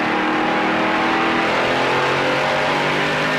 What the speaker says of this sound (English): You just hear that motor sing.